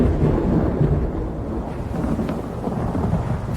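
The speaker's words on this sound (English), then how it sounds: "The storm is coming." Thunderstorm in the video game The Elder Scrolls Online, a dense low rumble of rolling thunder with steady rain-like hiss, loud and continuous throughout without voices.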